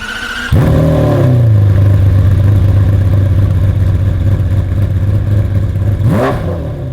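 A GMA T.50 supercar starts with a short starter whine, then its engine flares loudly and settles into a high, steady, smooth idle close by, with a second rising blip near the end; no voices.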